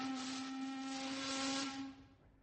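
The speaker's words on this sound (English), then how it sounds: "The steamer whistle screeched" A steamer's steam whistle gives one sustained, shrill tonal screech with a hissy edge, holding steady for about two seconds before cutting off abruptly, heard alone with nothing else around it.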